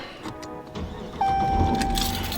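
A car engine turns over and catches, a steady idle tone rising abruptly partway through, with low rumble building after; close and moderately loud, no talking.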